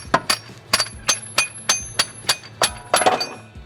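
A hammer knocks a CV axle into place in a car repair with about ten sharp metallic strikes in a fairly even rhythm, close and clear, with no talk.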